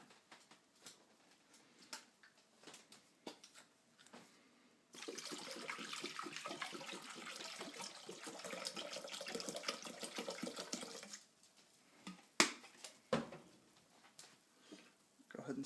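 White vinegar poured into a container for cleaning homebrew mash tun parts, heard as a steady, fairly soft liquid rush lasting several seconds, with scattered handling clunks before and after.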